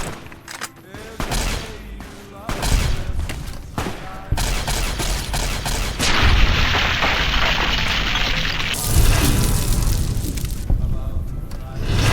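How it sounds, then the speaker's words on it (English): Gunfire in Fallout: New Vegas near a Legion slave camp: a sustained, loud exchange of shots and booming blasts layered with bursts of rapid fire, some spells harsher and hissing, running the whole stretch with a voice briefly in the mix. "Okay, they're still shooting?"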